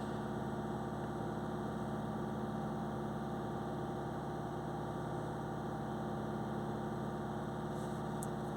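Engine of a Volkswagen Tiguan with a DPF soot fault, held at slightly raised revs: a steady, continuous drone with a constant hum and no change in pitch, heard alone.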